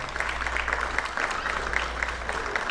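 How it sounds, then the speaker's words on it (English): An audience claps at a military hall of fame induction ceremony in a school, a steady, even round of applause from a crowd, fairly close and continuous. "Please join me in a round of applause for Mrs. Jody Pontelandolfo"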